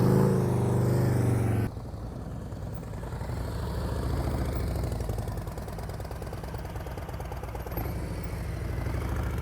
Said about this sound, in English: You hear his engine going blah, blah, blah, blah, blah.